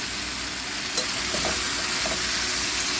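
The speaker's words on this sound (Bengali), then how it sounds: "আমি ফুলকপিগুলো এর মধ্যে দিয়ে দেবো দিয়ে আরও দু মিনিট কষিয়ে নেব" Cauliflower florets frying in hot oil in a pan, a steady close sizzle with a few soft scraping stirs, no voices.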